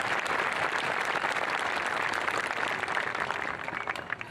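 An audience at a school promotion ceremony applauds its student speakers, continuous clapping from a crowd held at an even level and thinning slightly at the end.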